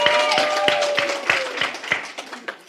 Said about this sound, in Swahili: Tafadhali msimpe makofi ya uchoyo